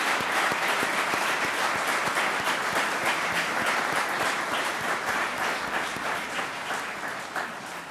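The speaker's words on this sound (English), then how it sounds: "Let's give her a round of applause and thank her for carrying a torch for" An audience at a city mayor's 2017 State of the City address applauds a resident, a dense sustained round of clapping from a large indoor crowd that tapers slightly toward the end.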